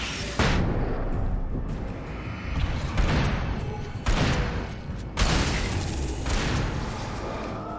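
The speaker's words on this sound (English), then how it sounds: "Flashbang." A flashbang goes off in the video game Alan Wake with loud booming blasts, several heavy bursts spaced a second or so apart, each followed by a rumbling decay.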